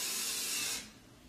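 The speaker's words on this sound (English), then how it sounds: "Now I will do the spray" Setting spray misted onto a face from the side, a steady close hiss lasting under a second before cutting off abruptly.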